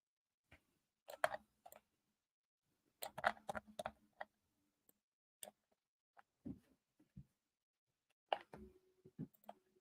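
Sharp mouse clicks in scattered clusters, some rapid and some single, fairly close and clear while a colored OBJ model is handled in Bambu Studio slicer software; no talking.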